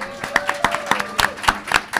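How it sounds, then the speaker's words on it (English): An audience at an evening forum event claps briefly, with quick, scattered hand claps in an irregular rhythm and some faint voices underneath. "Yes, you could clap."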